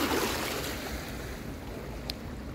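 Ocean waves wash steadily onto a beach where natural objects are scattered along the shore, a continuous broad surf roar with wind noise against the microphone, fairly loud and unbroken with no talk.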